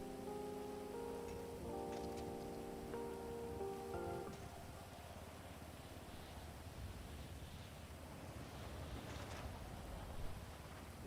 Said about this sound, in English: Raining again in Los Santos.